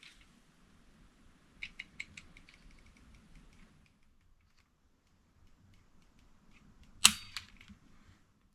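A Canik pistol trigger breaks during a pull weight test, a single sharp metallic snap standing out against a quiet room, preceded by a few faint ticking clicks.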